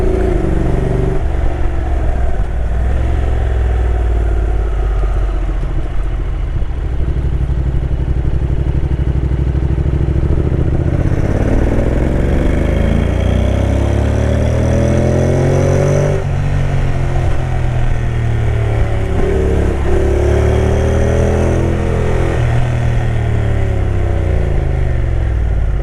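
Motorcycle engine revving and pulling through the hairpin climbs of Trollstigen road in Norway, close and loud, with rising and falling pitch as the rider accelerates and shifts continuously.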